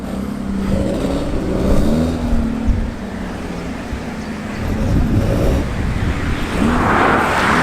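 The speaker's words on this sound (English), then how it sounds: "That XK engine sounds pretty purposeful." A classic car's XK engine revs at a car meet, its broad low rumble swelling and easing over several seconds, loud and close with steady outdoor ambience around it.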